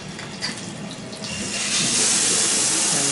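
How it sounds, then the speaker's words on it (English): Hot water runs from a bathroom tap, a steady hiss that swells louder and fuller partway through and holds, close by, with no talking. "That's the hot water."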